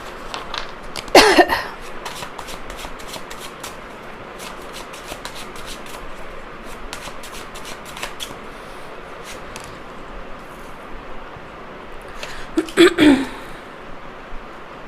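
Tarot cards shuffled by hand in two short bursts of crisp riffling, near and fairly loud, separated by a long stretch of quiet room tone with faint scattered ticks.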